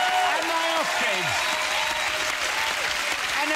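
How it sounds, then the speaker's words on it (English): A talk-show studio audience applauds steadily and fairly loudly, a dense continuous wash of clapping from start to finish with a host's voice faintly audible underneath. "Give a round of applause."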